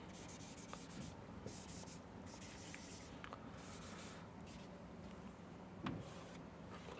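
An eraser rubbing writing off a board in a lecture room gives continuous soft scrubbing strokes in rhythmic bursts, with a few small knocks, fairly quiet and with no talk.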